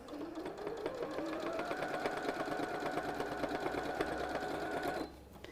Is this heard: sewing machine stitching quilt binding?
yes